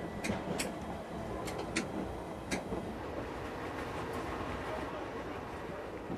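London Underground Metropolitan Line train rolling into the station at Baker Street, heard faintly at a distance as a steady rumble with scattered sharp wheel clicks and squeaks, with no talk.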